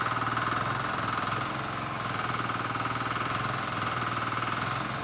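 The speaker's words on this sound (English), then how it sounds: "this one is powered by the diesel engine" A diesel engine powers a U-shaped compressed earth soil brick-making machine, thumping in a fast, steady, unbroken rhythm with a rough mechanical rattle. It runs loud and close throughout, with no talking.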